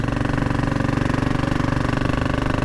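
A Royal Enfield Bullet 500 military sidecar motorcycle engine runs nearby with a rapid, even thumping beat that pulses steadily and loudly throughout.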